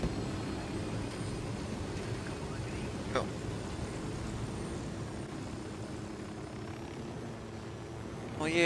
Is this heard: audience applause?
no